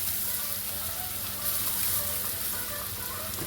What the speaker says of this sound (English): let the Spam have some color on it, allow my onions to caramelize a little bit